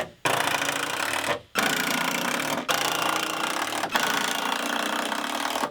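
Screws driven into wooden workshop wall framing with a power driver, in four loud, sustained whirring bursts separated by brief pauses.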